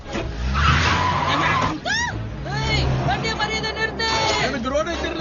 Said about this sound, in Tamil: வண்டி நகர ஆரம்பிச்சிருச்சு.